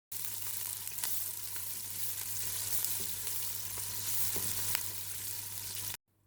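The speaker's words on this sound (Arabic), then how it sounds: "هضيف البصل واقلب." Onion frying in oil seasoned with whole spices in a pot, stirred now and then: a continuous close, fairly quiet sizzle with occasional soft scrapes and ticks, cutting off abruptly at the end.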